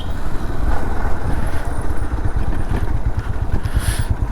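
Many motorcycles at an off-road racing event in Chikmagalur, a dense, loud rumble of engines idling and revving together, with clattering mechanical noise throughout.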